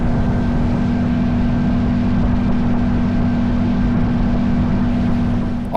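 A Fi-Glass Viscount boat runs at speed near 48 knots, its big Mercury outboard engine holding a loud, steady, even drone with a constant hum throughout and no voices.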